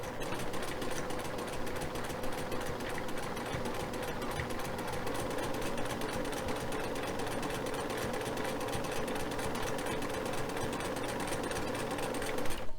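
A sewing machine stitches quilt blocks in a rapid, steady mechanical chatter that runs unbroken throughout, close but fairly quiet, with no talk.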